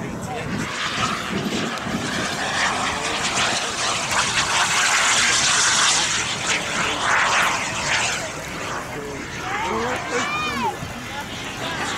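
A turbine-powered model jet of fully composite build, about three and a half meters long and roughly 19 kilograms, makes a loud, steady roaring whine throughout. Voices are faintly mixed in underneath.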